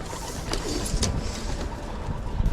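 Pigeons housed in a loft, young birds with cocks and hens, keep up a steady close murmur of cooing, with scattered clicks and flutters throughout.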